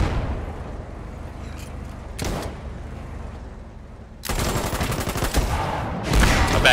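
Gunfire in the war video game Foxhole: scattered shots early on, then loud bursts of rapid automatic fire rattling near the end, set over a low rumbling battlefield background.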